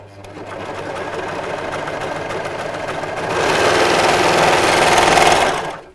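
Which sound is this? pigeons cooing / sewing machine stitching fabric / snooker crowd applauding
sewing machine stitching fabric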